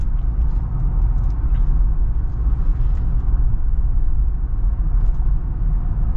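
A 2023 Jeep Wrangler High Altitude driving on the road, with a steady, loud low engine and road rumble and tire noise that runs without a break from start to finish.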